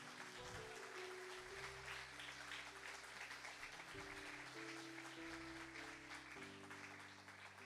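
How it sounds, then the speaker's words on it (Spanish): A church congregation applauds during a Bible study sermon, a faint, sustained patter of clapping over low sustained musical tones. "Dale un aplauso al Señor."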